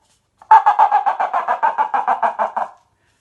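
A loud, rapid series of squawky clucks, about a dozen in a steady rhythm, from a paper cup chicken noisemaker imitating a chicken in otherwise quiet surroundings.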